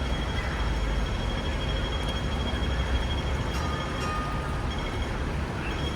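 A Hong Kong double-decker tram rolls westward toward the Western Market terminus, its steady rumble and rail noise continuous and fairly loud from on board.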